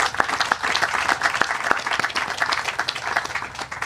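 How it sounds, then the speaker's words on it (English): Audience applause at a groundbreaking ceremony for the Legends South development: dense, steady clapping from a crowd with sharp individual claps standing out, filling the whole stretch without a pause. "Let's give a round of applause for that."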